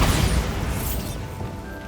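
Bombarda explosion spell in Hogwarts Legacy, a loud boom that hits at once, then a crashing, rumbling decay that fades over about two seconds, no speech.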